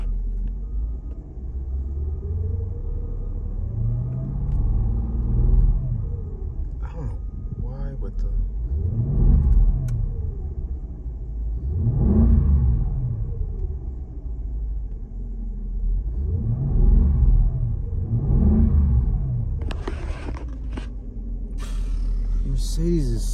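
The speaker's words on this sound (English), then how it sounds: "The motor just sound really loud to me from inside the car." Mercedes-Benz CLS 550 AMG V8 engine heard from inside the car, a steady loud rumble with repeated rising and falling revs every few seconds, close and continuous for the whole stretch.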